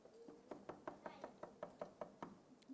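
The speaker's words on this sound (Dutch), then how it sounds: "Daar wordt op de deur geklopt." Knocking on a door in a Dutch puppet show, about a dozen quick, evenly spaced raps in a steady rhythm, close and clear with no talking over them.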